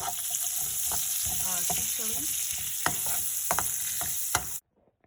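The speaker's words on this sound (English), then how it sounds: "So I'm gonna brown the onion and have the jalapeno in there." Onion, jalapeno and chilies sizzle steadily as they brown in a frying pan, with a constant hiss and occasional stirring clinks and scrapes, loud and close, then cutting off abruptly near the end.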